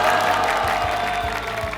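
A lecture audience screams and applauds as a chef takes the stage, producing a loud, continuous wash of cheering and clapping that holds steady throughout the short burst.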